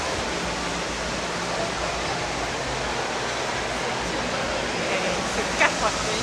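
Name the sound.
indoor fountain in a hotel lobby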